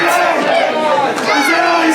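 Indie wrestling crowd chanting for wrestler Johnny Pierce, a loud, steady rhythmic roar of many voices filling the arena throughout.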